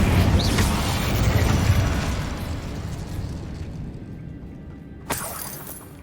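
An Incendio fire spell from Hogwarts Legacy erupts as a loud, crackling, shattering blast that slowly fades over several seconds, ending with a brief sharp burst near the close.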